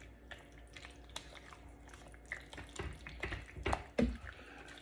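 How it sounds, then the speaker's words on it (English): Water being added and stirred into chicken jalfrezi in a slow cooker, faint close splashing and wet sloshing with soft spoon scrapes, growing a little louder toward the end. "As you're stirring, add in some water."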